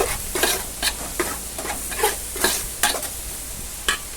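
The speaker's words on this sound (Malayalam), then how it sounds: "അപ്പോൾ അതുകൊണ്ട് മഞ്ഞപ്പൊടിയും കൂടെ ഇത്തിരി ഇടാം കേട്ടോ. ഒന്ന് ഇളക്കി കൊടുക്കാം." A spatula stirs egg curry spices, coriander and turmeric powder, in a frying pan, giving repeated scraping strokes about every half second over a steady low sizzle, close and clear with no talking.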